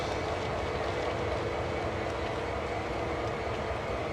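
A CSX SD40-2 diesel locomotive in Train Sim World gives off a steady, broad rumble with a continuous hiss, unbroken and fairly loud, with no voices.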